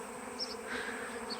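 A close, steady insect buzz of a honey bee swarm droning together, with brief higher whines as individual bees pass near.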